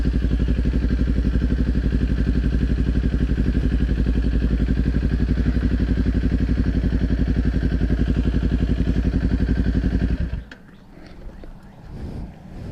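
A 2019 Kawasaki Ninja 400 motorcycle idles and rolls along at low speed with a steady, close engine drone for about ten seconds, then cuts off, leaving quiet outdoor ambience.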